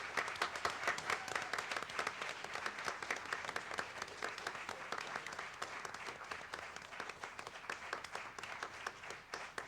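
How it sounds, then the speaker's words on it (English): An audience at a school board meeting applauds steadily, many hands clapping in a sustained, even round from a moderate distance that carries on for the whole stretch. "So can we please give a round of applause to Tony Miles,"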